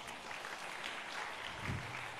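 Applause for a young child at an Islamic recitation gathering, a short burst of clapping from a small audience heard alone at steady moderate loudness, with a faint voice near the end.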